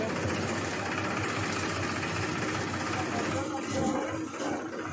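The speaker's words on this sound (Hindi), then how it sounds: "अंकल जी चला रहे हैं ट्रैक्टर" A tractor engine runs continuously on a farm in Jhajjar, a steady droning rumble that stays loud and even from start to finish, with faint voices mixed beneath it.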